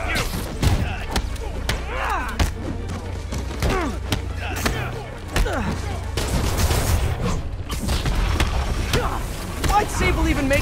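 Heavy gunfire from many guns in the Spider-Man PS4 game, Turf Wars DLC, rattles as dense repeated bursts and thuds over a low game rumble, with someone talking excitedly throughout.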